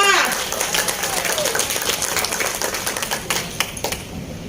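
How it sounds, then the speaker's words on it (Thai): An audience claps at a Thai award or recognition event, a dense crackle of applause that starts strong and thins out over a few seconds. "ขอเสียงปรบมือดังๆ"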